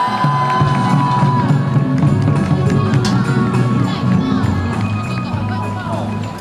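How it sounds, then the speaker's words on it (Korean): A crowd at a 2016 Turn Toward Busan memorial parade event in Busan cheers loudly and steadily, with a dense roar of voices and shouts close by throughout. "여러분 박수 부탁드리겠습니다"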